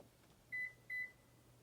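A 2016 Toyota Prius confirming smart key fob registration with two short, sharp electronic beeps in quick succession, clear and fairly near over a faint background hum.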